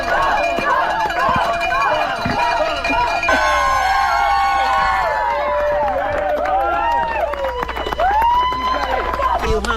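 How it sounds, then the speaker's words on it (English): A race crowd cheering and shouting for an ultramarathon runner crawling the final miles of a 135-mile race, with many overlapping voices, whoops and calls close by, steady and lively throughout. "Here's some sound from the crowd as he's crawling those last few miles, thanking the crowd, beer in hand"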